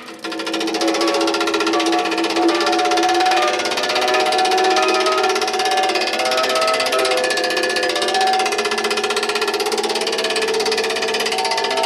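A hydraulic press runs steadily while note fields are pressed into a steel handpan shell, producing a loud continuous mechanical drone with a buzzing, vibrating texture that holds for the whole stretch.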